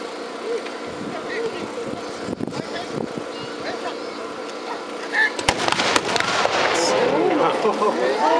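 Large matchlock guns fire in a sharp, loud volley of cracks during a gun-corps demonstration at the Ueda Sanada festival, with a big blast near the middle and a murmuring crowd and rumble around them.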